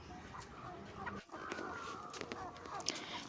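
Backyard hens cluck near the house while a woman watches over them, the calls short and repeated over steady background noise with a brief dip partway through.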